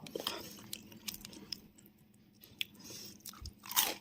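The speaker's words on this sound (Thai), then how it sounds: "กรอบนอกนุ่มใน ฟังเสียง" Someone bites and chews a crispy fried Thai snack, crunchy outside and soft inside. The crunches are close, quiet and irregular, coming in a few sharp bursts with softer chewing between them and no talk.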